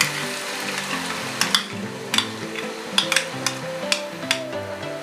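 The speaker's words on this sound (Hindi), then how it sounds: "अब इसमें हम प्याज फ्राई करेंगे।" Onions sizzling in about half a cup of hot oil in a pan, a steady close crackle and hiss with occasional sharp pops and spatters, no voices over it.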